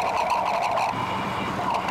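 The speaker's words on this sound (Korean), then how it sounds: "엔진 소리" The engine of a hard-hat diving boat at sea runs in a steady, unbroken drone, close and fairly loud, with no voices over it.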